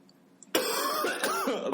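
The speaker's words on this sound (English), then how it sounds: "you're gonna hear me cough a lot through this." A single throaty cough bursts out close to the mic, followed by a rough, rasping clearing of the throat with no talking.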